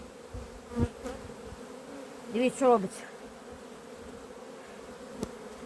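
Honeybees hum in a steady, dense drone at an opened hive crowded with brood during a spring colony inspection after long rains, while someone speaks briefly over the buzzing.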